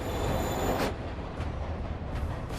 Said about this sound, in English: Get on that train.